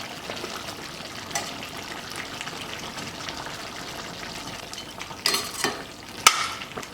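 Mixed vegetables and paneer for a veg biryani stir-fry in a pan with a soft steady sizzle, punctuated by a few louder scraping stirs near the end; no talking.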